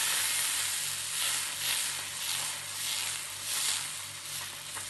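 Thin spring roll pancake wrapper cooking in a hot pan, giving a soft, steady hiss that swells and fades gently, faint and close with no talking.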